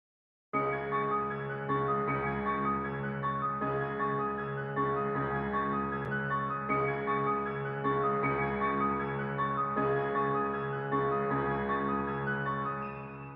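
Layered piano sample patterns play continuously, one pitched an octave lower and slowed with halftime, washed in heavy reverb, sustaining steadily without any voices.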